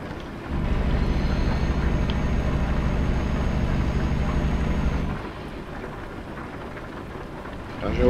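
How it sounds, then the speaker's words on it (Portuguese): Rain and thunder in Euro Truck Simulator 2 are heard from inside the truck cab: a loud, sustained rumbling roar for several seconds that then drops to a quieter wash of rain. "Olha que louco o efeito de chuva no vidro."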